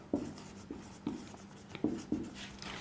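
Pen or marker writing strokes while a diagram of silicon atoms and their covalent bonds is drawn, several short scratchy strokes in an irregular rhythm, close and fairly quiet, with no talking.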